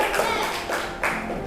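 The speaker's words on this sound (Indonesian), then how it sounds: "tepuk tangan untuk Raisa." Students in an Indonesian classroom clap together during a group quiz game, a short burst of dense, lively hand claps with voices mixed underneath.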